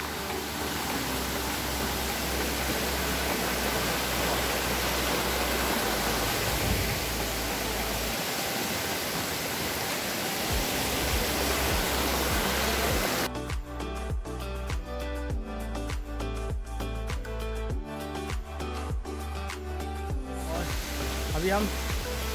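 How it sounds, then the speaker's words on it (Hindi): A waterfall on the Kondhana cave trek near Karjat gives a constant loud rushing hiss of falling water, continuous throughout and steady in level. "और ये वाटरफॉल है यहाँ पे"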